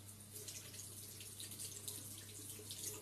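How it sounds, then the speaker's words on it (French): Tap water runs quietly over a facial cleansing brush head being rinsed at a sink, a soft continuous splashing stream with a low background hum. "Et juste à la passer un petit coup sous l'eau."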